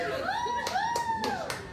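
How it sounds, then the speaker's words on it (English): About four sharp hand claps land at steady intervals over sweeping, gliding electronic tones in the background. "Why are you clapping?"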